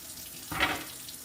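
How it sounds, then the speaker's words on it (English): Tap water starts running into a kitchen sink with a sudden steady rush that swells briefly and continues at moderate volume. "Clean water in the sink."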